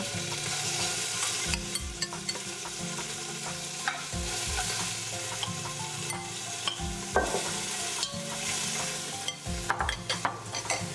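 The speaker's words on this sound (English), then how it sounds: "I'm actually gonna cook it in batches so that we get a nice brown coating on the outside" Beef browns in a hot pan, a loud continuous sizzle broken by repeated scraping stirs and clatter at an uneven rhythm, with no voices.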